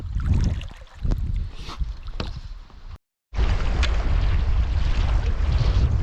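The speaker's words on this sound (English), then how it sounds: "Just like the wind was predicted to come, it's really built up." Strong wind buffeting the microphone while stand-up paddleboarding on a lake in the Boundary Waters, loud gusty roar with paddle splashes, cut by a short dropout before the rushing resumes.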